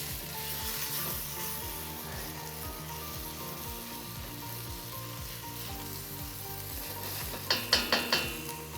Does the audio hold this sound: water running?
no